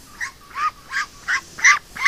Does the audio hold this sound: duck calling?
yes